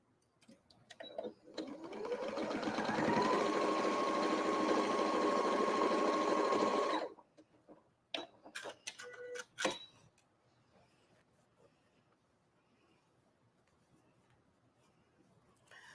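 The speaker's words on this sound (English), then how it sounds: "we're going to sew right on that line" A sewing machine stitches a quilt block for a ribbon star design in one steady run of about five seconds, rising quickly to a fast even whir before stopping, followed by a few faint clicks and handling sounds.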